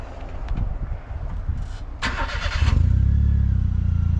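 A car fitted with a bolt-on aftermarket exhaust cranks and fires up near the end, settling into a steady, fairly quiet low idle after a few seconds of background movement and faint clatter.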